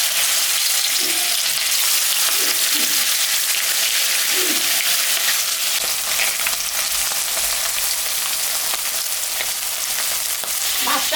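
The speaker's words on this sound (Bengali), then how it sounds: "হলুদও দিই। মাছটা আমি এখন ভাজবো।" Pangas fish pieces rubbed with salt and turmeric fry in hot mustard oil in a kadai, giving a loud, steady sizzle that runs unbroken throughout, with no talking.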